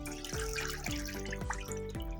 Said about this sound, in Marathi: आपण आता स्वच्छ भाजी धुवून घेतोय मिठाच्या पाण्यातून घेतोय धुवून